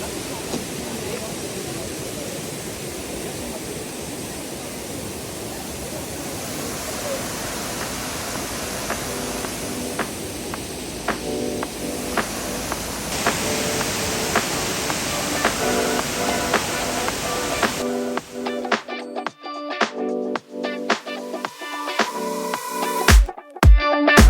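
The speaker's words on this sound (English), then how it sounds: "And we have arrived to Pangas Falls." Pangas Falls in Bohol, Philippines, gives a steady, broad rushing roar of falling water that fills the scene, with more activity and clatter building near the end.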